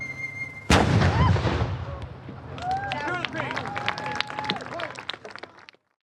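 A single loud cannon or artillery blast, fired during a demonstration of King George III's era, booms out suddenly and rolls away, followed by excited voices and cheering.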